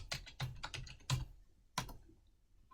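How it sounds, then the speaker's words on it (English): Typing on a computer keyboard while entering a references page heading: a few quick clusters of key clicks separated by short pauses, close and quiet with no talk. "type in references"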